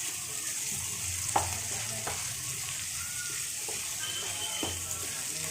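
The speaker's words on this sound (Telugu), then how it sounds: "ఇందులో క్యారెట్ ముక్కలు అలాగే బంగాళదుంప ముక్కలు కూడా వేసుకుందాం. వీటిని కూడా వేసి 1 నిమిషం పాటు మగ్గనివ్వాలి." Carrot and potato pieces fry in hot oil for sweet corn pulao, making a constant close sizzle broken by several quick spatula knocks against the pan. No one speaks.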